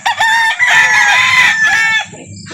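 A rooster crows loudly and close at a chicken sale in Calauan, one long drawn-out call lasting about two seconds and trailing off, with faint background murmur.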